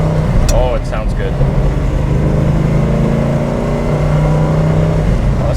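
A 1971 Ford Mustang Mach 1 engine rumbles and revs steadily up close from inside the car, with a deep continuous drone and a short voice heard near the start.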